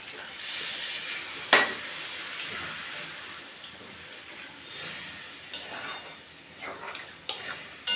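Water poured into a pan of paneer curry with potatoes, pointed gourd and drumsticks, bringing a soft sizzle and bubbling hiss broken by several sharp clinks and scrapes, fairly quiet overall.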